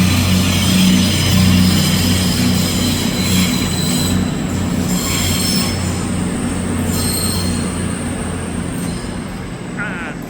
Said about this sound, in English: Cross-country Voyager all the way up to Edinburgh.